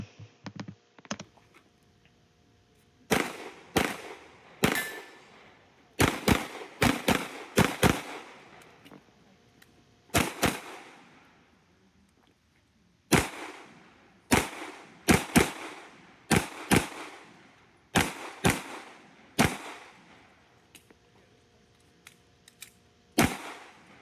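Rapid gunfire from a practical shooting stage, fired on the move: sharp, loud shots come in quick bursts of two or three with short pauses between, the string running throughout with no talking.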